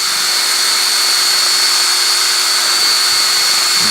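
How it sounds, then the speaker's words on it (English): A power drill runs flat out on high speed, mixing polyurethane foam. It gives a loud, constant motor whine with a sharp high tone that holds steady throughout. "I've just got this drill on high."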